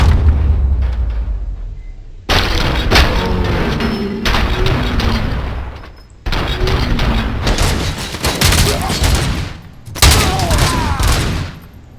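Loud bursts of rapid gunfire in RoboCop: Rogue City, firing in several long sustained volleys separated by short pauses, close and dominant with no talk over it.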